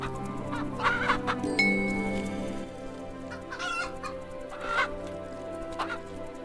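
Several chickens in a video game cluck and squawk in irregular bursts, close by, with a steady low hum underneath and a brief high tone.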